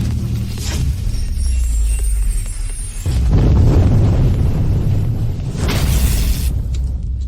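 Animated explosion effect: a deep booming blast with rumbling low end, followed by a second burst a few seconds later, loud and without speech.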